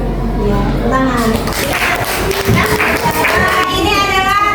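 Children and class clapping for an anti-corruption poster at a school activity, a burst of hand claps heard close and loud, mixed with voices talking over it.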